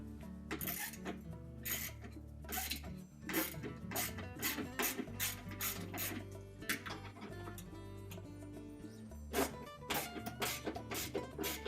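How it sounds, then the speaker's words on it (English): A socket and ratchet loosens the tight screws holding a Whirlpool washing machine drain pump to the bottom of the tub, giving close, steady bursts of rapid metallic ratcheting clicks that run through most of the stretch with brief pauses. "If you find them very tight, use your socket and ratchet."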